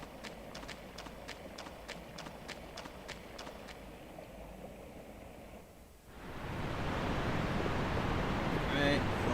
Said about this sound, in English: I appreciate that the footsteps are wet even when you're not in the water,